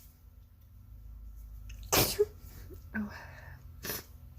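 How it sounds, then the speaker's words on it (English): A single sharp sneeze bursts out near the microphone, followed moments later by a shorter second sneeze, with a brief spoken exclamation in between. "Excuse me, I'm going to sneeze."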